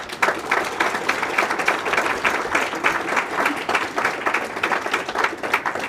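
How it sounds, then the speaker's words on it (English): A round of applause from the audience at a town awards ceremony honoring women, with many people clapping in a brisk, rhythmic, fairly loud burst that carries on steadily throughout. "Let's give them a round of applause."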